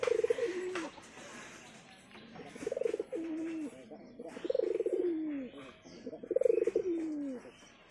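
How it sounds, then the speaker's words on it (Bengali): Pigeons cooing close by on a rooftop loft, four rounded descending coos repeating every couple of seconds over faint background noise. "এই যে আমার শিকারি পায়রা"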